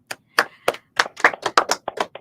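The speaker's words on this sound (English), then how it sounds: "Let's have a round of virtual applause for our panelists and our moderator." A handful of sharp, uneven claps ring out in quick succession, close and distinct with short gaps, like a small group applauding panelists at a design competition final.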